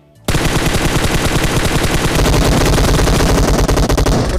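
Loud, sustained automatic gunfire rattles in a rapid, continuous burst at a BRDM armored vehicle in a mobile battle-royale shooter game, starting abruptly and filling the whole span.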